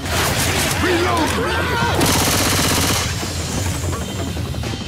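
Rapid gunfire from a machine gun in the zombie shooter Left 4 Dead 2 on the Whispers of Winter level, loud and continuous over a dense battle din, with voices calling out over the shooting.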